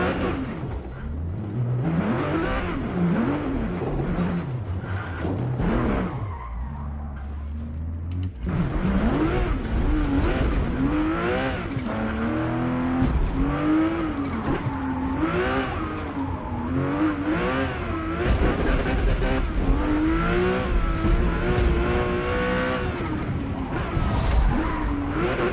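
A Porsche race car in Forza Motorsport revs hard and fluctuates as it drifts, engine pitch swinging up and down through repeated throttle bursts, with a brief dip before the roar resumes loud and continuous.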